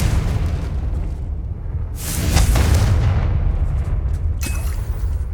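A Confringo fire spell explodes in Hogwarts Legacy, a loud booming burst that swells near the two-second mark over a rumbling battle backdrop, followed by a sharp crackling pop near the end.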